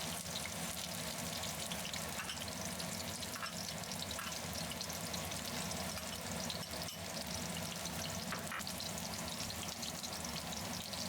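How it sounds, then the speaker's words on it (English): Green onions fry in hot vegetable oil for a stir-fried eggplant dish. A steady, dense sizzle crackles and spits without a break, with a few faint clinks and no talking. "Before the oil starts to smoke, add in green onions"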